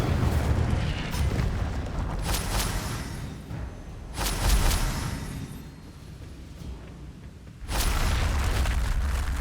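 In Hogwarts Legacy on PS5, levitation and fire spells go off as a series of booming, rumbling magical blasts and whooshing bursts, each loud and close with quieter stretches between them.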